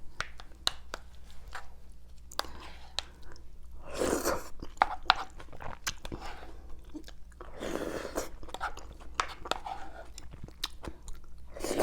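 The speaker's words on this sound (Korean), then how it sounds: "제가 이제 먹는 거에 집중을 하도록 하겠습니다" Close-miked chewing of gamjatang, a Korean pork bone and potato stew, with repeated wet crunches and bites in an uneven rhythm and a few louder bursts of mastication throughout.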